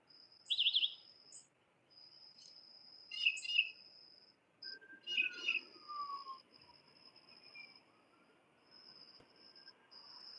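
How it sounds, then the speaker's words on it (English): Birds chirping on a cloudy morning in a garden, scattered high tweets and trills in separate bursts over a quiet background, fairly close. "All the birds."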